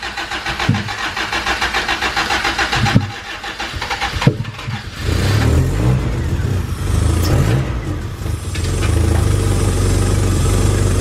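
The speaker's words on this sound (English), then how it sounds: "Give us some throttle." A turbocharged Honda CR-V with a rebuilt GSR head cranks and catches, sputters through a few stumbling starts, then settles into a rough running engine with throttle blips, loud and close.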